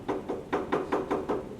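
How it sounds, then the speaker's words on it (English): A door knocker is tapped in a quick, even series of about eight light raps, close and moderately loud, in a quiet setting with no voices. "I tap on the knocker."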